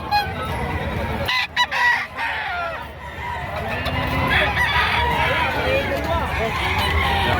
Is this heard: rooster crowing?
yes